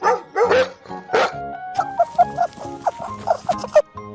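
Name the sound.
dog barking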